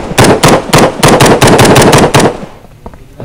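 Rapid automatic gunfire in the Hide Online multiplayer shooter game, a loud, close burst of about a dozen evenly spaced shots that stops abruptly, followed by a few faint clicks.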